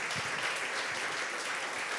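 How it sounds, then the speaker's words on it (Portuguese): A congregation in a Portuguese-language church service applauds in a dense, continuous wash of clapping that stays even and fairly full throughout, with no voices rising above it. "Vamos aplaudir o Senhor."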